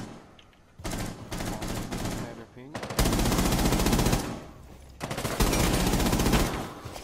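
Automatic gunfire in the video game Rainbow Six Siege, loud sustained bursts of rapid shots in three long volleys separated by brief pauses.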